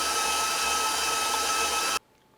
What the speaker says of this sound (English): We are done with the KitchenAid.